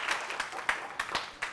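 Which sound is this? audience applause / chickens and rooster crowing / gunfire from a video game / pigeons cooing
audience applause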